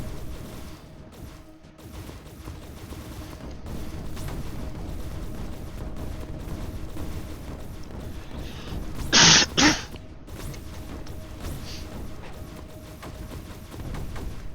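Stash explosion in the Creeper World 4 game, a short loud blast with a quick double burst over a low steady in-game rumble and droning background.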